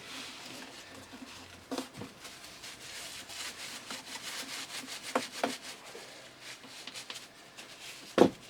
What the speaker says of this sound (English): I'm sure you don't want to watch me scrubbing this clean all day.